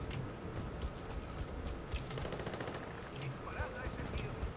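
Rapid gunfire in Battlefield Bad Company 2, fairly faint, with a steady stream of crackling shots and occasional louder bursts.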